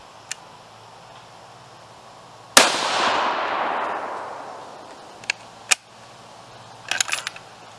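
A single 6.5 Creedmoor rifle shot firing a 142-grain Sierra handload at an outdoor range, a sharp loud crack with a long decaying rumble, followed by a few faint clicks and small handling knocks.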